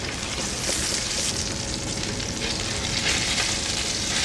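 Sea bass sizzles steadily in a hot pan as it is turned over, a loud, close, continuous crackle and hiss with no pauses and no talking.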